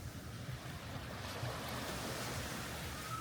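Ocean waves crash against a rocky shore on the coast at Costa Adeje, a steady loud wash of surf with wind noise, close and continuous with no distinct breaks.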